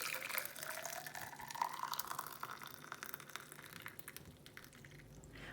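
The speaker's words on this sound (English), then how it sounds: "this is the time to put in the hot water" Hot water pours from a kettle into a teapot for brewing tea, a soft, steady trickle and splash that gradually thins and fades, quiet and close with no talking.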